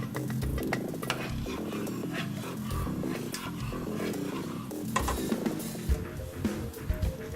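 Canned diced tomatoes tip into a pot of shrimp, corn and tomato stew and are stirred, with wet sloshing, spoon scrapes and knocks against the pot over a soft, continuous sizzle.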